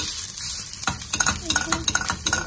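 Rice is stirred as it fries in a hot pan, steady sizzling under repeated scraping and clinking strokes of a utensil against the pan, close up with no voices.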